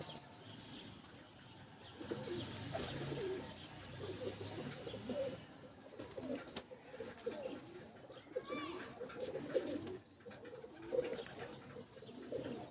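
Pigeons handled on a rooftop coo in soft, repeated low calls over a steady outdoor background, with faint chirps; someone talks intermittently nearby, and any wing flapping is not clearly separable.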